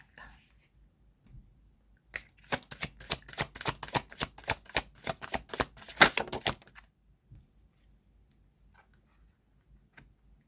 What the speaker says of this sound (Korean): 한 장만 더 뽑아보도록 하겠습니다